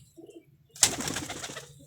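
Pigeons coo in a low, soft murmur, then a sudden close burst of noise, likely wing flapping, rises and fades over about a second.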